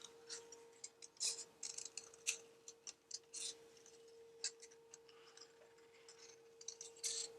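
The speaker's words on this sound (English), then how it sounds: "cut around each one." Scissors cut around stamped paper camera shapes, giving quiet, close, irregular snips and clicks over a faint steady hum.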